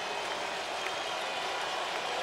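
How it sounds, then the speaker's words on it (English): South Florida Bulls football fans roaring at Raymond James Stadium in Tampa, a dense, steady wash of loud crowd cheering and whooping with no breaks. "the Bulls fans whooping it up here at Raymond James Stadium"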